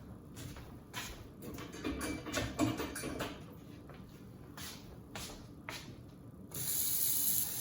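Tap water runs into a pot for boiling ramen noodles, a soft intermittent splashing with handling clatter, then a louder steady stream near the end.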